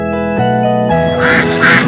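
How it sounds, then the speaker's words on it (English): A crested duck quacks loudly and close, a short burst of several nasal quacks over a steady tonal background. "Crested duck."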